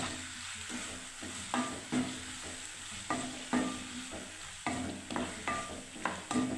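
Tomato paste and capsicum masala gravy cook in a pan while a spoon stirs it, giving a soft background sizzle broken by regular scraping and knocking strokes about every half second, close by.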